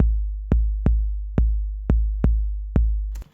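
Dry produced kick drum from a Cubase beat, with no reverb or delay returns. Seven deep, punchy thumps fall in a steady groove, each one decaying cleanly, and a short higher hit closes the pattern.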